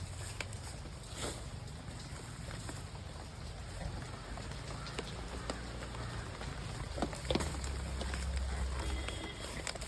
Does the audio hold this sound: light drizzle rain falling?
yes